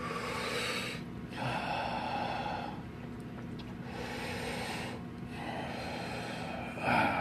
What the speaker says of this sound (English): Let me breathe again.